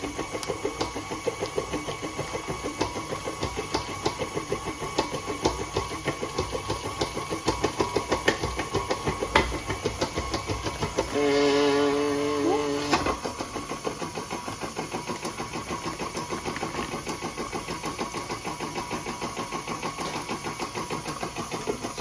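A mixing machine kneads sourdough brioche dough with a steady rapid mechanical rattle and motor drone throughout, plus a brief louder whirring surge near the middle.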